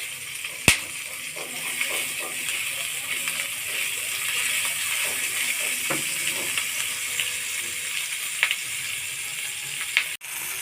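Garlic and ginger paste sizzles steadily in a hot pan for a fish-head and potato dish, a constant close hiss broken by a few sharp clinks of utensil against metal.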